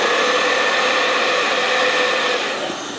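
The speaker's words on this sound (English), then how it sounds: "let me try the hair dryer here real fast" Hair dryer set to hot and low, running steadily with a broad airy whoosh and hum at close range, easing slightly quieter at the end; no voices.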